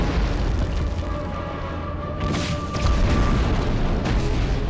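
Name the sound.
grenade explosion in the video game Medal of Honor Underground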